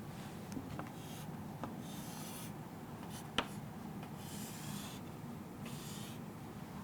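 Pen or marker writing during a biology lesson, faint scratchy strokes in short bursts over a quiet room background, with one brief sharper tap partway through and no talk.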